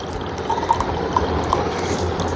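Hot water is poured into a photo-reveal magic mug at a child's fifth birthday, a close, gentle splashing pour with small bubbling plinks and little else.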